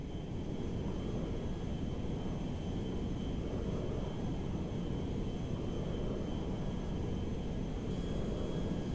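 A jet aircraft in the video game GTA V flies with a dense, steady engine roar that holds without a break throughout.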